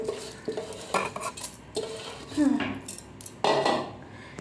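Raw rice is tipped into a rice cooker's metal pot, with close clattering grains, scraping and metallic knocks in uneven bursts. It is moderately quiet, with no talking.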